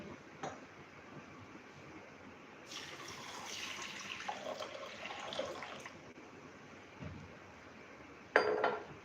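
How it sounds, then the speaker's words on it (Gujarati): Moong dal being washed in water in a home kitchen, with faint swishing and sloshing punctuated by a few clinks against a steel vessel, a louder rattle near the end. "અહીંયા આપણે મગની દાળને ધોઈ લેશું."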